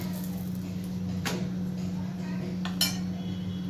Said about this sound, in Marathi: तर आता आपली पोळी आपण पलटून घेऊया.